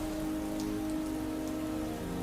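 Rain patters steadily on earth, stone and an umbrella overhead, a soft continuous hiss of drops with a faint low hum beneath, no voices.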